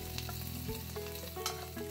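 Fish frying in hot oil with ginger in a wok over medium-low heat, a steady close sizzle and crackle with brief spatter bursts, no talking.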